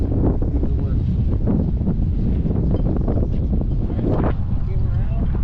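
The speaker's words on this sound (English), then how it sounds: "now the wind's pushing right over, right against the dock" Strong wind buffeting the microphone at a dock on Cook Inlet, Alaska, during halibut fishing: loud, continuous low rumble and gusty roar, with faint voices partly buried beneath it.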